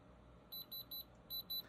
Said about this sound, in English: my diamond tester is ready. Let's see if we can get another beep, beep, beep